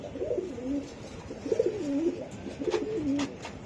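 Soft, throaty racing pigeon coos repeat in three rolling phrases, close by, over a faint background hiss.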